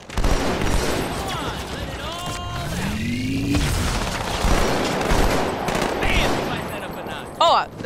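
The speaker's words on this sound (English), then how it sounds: "Oh, the plasma pistol took him out." Plasma pistol fire in a Halo-style legendary multiplayer match, rapid energy bursts and gunfire mixed with sweeping electronic charge sounds, loud and dense throughout, with no voices.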